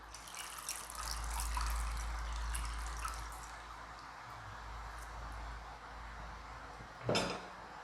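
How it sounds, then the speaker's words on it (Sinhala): Ice water poured into a bowl in a home kitchen, a steady splashing pour lasting several seconds at moderate volume, ending with a short knock near the close. "ඉක්මනින් සිසිල් කරගන්න ඕන හින්දා මම මේකට ඇල් වතුර එකතු කරනවා"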